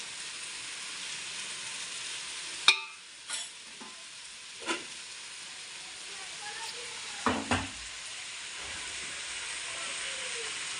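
Spices and green chillies frying in a pan for veg pulao give a steady, soft hiss throughout, marked by a few clattering stirs and scrapes of a spoon; no speech.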